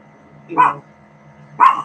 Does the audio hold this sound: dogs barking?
yes